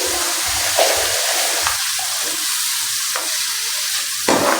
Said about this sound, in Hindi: मैंने कढ़ाई में घी डाला है और प्याज डाले हैं। प्याज को मैं ब्राउन होने दूंगी।